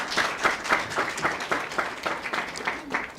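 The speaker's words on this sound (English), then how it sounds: "Let's clap for ourselves, ladies and gentlemen" Audience applause at the launch of Username Sacco, a steady run of clapping hands with irregular bursts, moderately loud and close, lasting a few seconds without talk.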